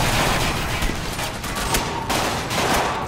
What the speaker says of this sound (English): Oh, I'm sorry, I'm shooting your mind slave.